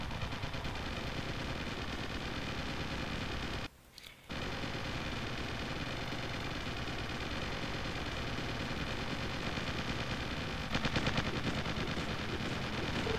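Continuous dense gunfire from the Original War strategy video game as troops attack an oil derrick, a loud unbroken clatter with a brief dropout partway, no voices.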